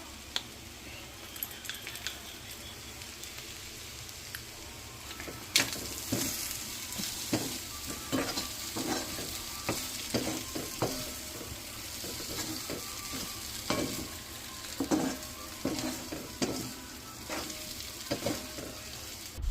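Prawns fry in a pan with cumin powder, garam masala and curry leaves, crackling quietly before a louder burst of sizzling, then repeated close scrapes and stirring clatters over continuous hissing.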